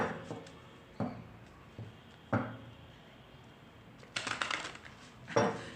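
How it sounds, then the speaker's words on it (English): Tarot cards are shuffled in short, quiet bursts of papery riffling and tapping, a handful of separate flurries with soft pauses between them and no one speaking. "I need to shuffle my cards a little more, going all over the place."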